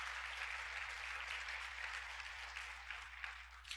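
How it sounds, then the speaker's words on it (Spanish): Steady, sustained applause from a church congregation praising the Lord, a continuous wash of many hands clapping at moderate distance over a low constant hum. "Denle un aplauso al Señor."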